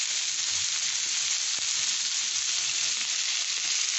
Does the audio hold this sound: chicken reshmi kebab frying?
yes